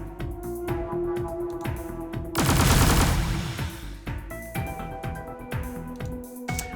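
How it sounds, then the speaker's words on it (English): A sustained burst of fully automatic weapon fire in the Deep Sky Derelicts video game, a loud rapid rattle lasting about two seconds, set between stretches of steady tonal game sounds. "I can try using a full automatic fire"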